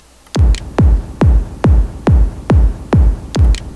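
Eight steady, evenly spaced kick drum hits in FL Studio 8 with a reverb effect set to 30% and a 1-second decay, loud and booming, each with a short reverberant tail, playing alone without any voices.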